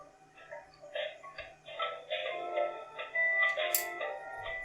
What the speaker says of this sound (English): Put myself on hold so I get lovely music playing.